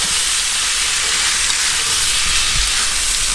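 Trout and a stir fry sizzle steadily in a hot pan beside a river, a loud, even hiss of frying oil that runs unbroken throughout with no voices.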